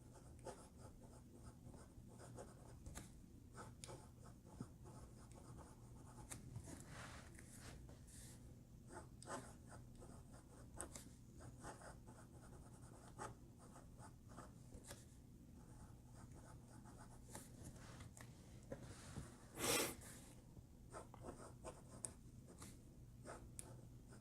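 Moonman M100 fountain pen with an upgraded nib writing on paper, faint close scratching strokes in irregular bursts over a quiet background, with one brief louder scrape.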